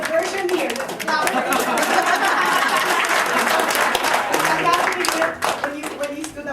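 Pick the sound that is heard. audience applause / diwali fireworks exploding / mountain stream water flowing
audience applause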